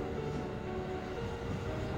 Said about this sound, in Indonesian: KRL 1156 berjalan perlahan mendekati sinyal blok B104 menjelang memasuki stasiun Sawah Besar yang beraspek kuning